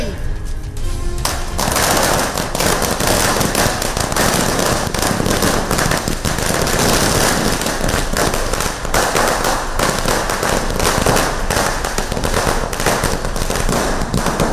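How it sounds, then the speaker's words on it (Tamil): Firecrackers bursting in dense, continuous rapid crackling volleys during early-morning festival celebrations, loud and sustained throughout with barely a pause. "அதிகாலையிலேயே புத்தாடைகள் அணிந்து பட்டாசுகள் வெடித்து கோலாகலம்."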